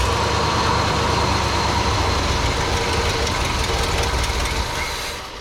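A carbureted engine starved of fuel turns over and runs roughly, a loud continuous knocking rumble near the microphone that holds for several seconds before fading at the end.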